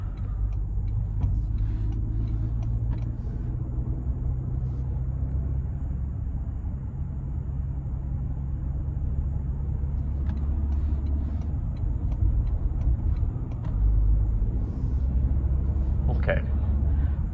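A 2024 Toyota Grand Highlander LTD driving at night, heard from inside as a steady low road and engine rumble with faint ticking, while a person talks over it.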